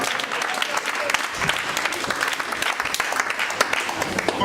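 A church congregation claps and cheers in praise, producing a steady, dense wash of applause from a crowd indoors with no pauses.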